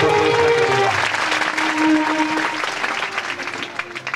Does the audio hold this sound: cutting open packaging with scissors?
no